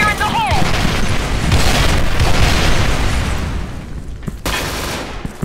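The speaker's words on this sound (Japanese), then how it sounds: "手榴弾を投げます" A grenade going off in an online shooter clan match, a loud close blast opening into a long rumbling roar that slowly fades, with a brief voice at the very start.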